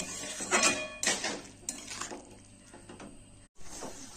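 Lid set onto a pot of mixed vegetables simmering with salt and sugar, a few close metallic clanks and scrapes of cookware at the start, then quieter rattling and a sharp clatter near the end.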